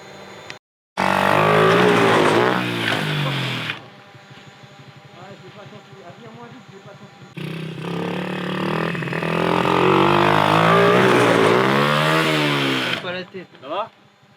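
A mini motorcycle screams at full throttle up a jump ramp in two loud, close bursts of rising, sweeping engine whine separated by a quieter idle, with voices speaking over it.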